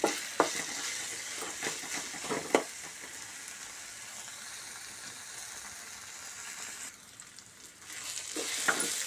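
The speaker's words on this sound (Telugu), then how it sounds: "ఇలా మధ్య మధ్యలో కలుపుతూ వేయించుకోవాలి" Fenugreek leaves frying in a pan of tempering, a steady close sizzle broken by several sharp scrapes and knocks of a spatula as it is stirred, with a short quieter stretch near the end before the sizzle rises again.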